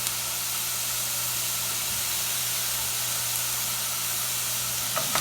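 Fish curry with salt cooks in a pan, giving a steady, close sizzle and hiss over a low hum that runs unbroken throughout. A faint knock comes near the end.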